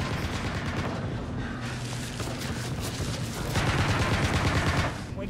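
Sustained war gunfire with machine-gun bursts and heavy booms, dense and loud throughout, growing heavier toward the end.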